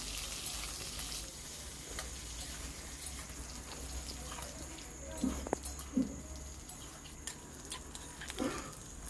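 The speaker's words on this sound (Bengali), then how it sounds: "এবার আমি কতগুলোকে ভাজতে দিলাম তো পটলগুলোকে খুব ভালো করে একটু লাল লাল করে ভেজে নিই" Pointed gourd (potol) slices fry in hot oil in a wok, giving a quiet, steady sizzle with a few brief knocks near the end.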